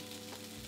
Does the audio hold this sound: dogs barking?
no